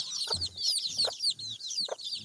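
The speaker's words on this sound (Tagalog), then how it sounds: "Ito yung mga alagang manok" Pet chickens cluck at close range in a farmyard, short low clucks recurring among a steady, dense chorus of high peeping chicks calling for food.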